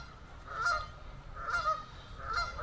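Geese on the main lake at Wicksteed Park, Kettering, honk loudly in three bursts about a second apart, harsh nasal calls over a low outdoor rumble.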